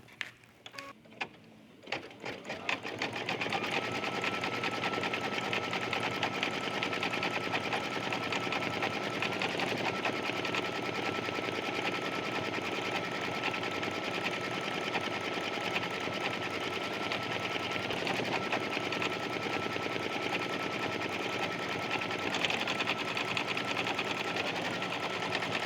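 An embroidery sewing machine stitches a design onto a jean jacket with a steady, rapid mechanical whirr and needle chatter. A few stuttering starts come first, then it runs continuously and evenly at close range.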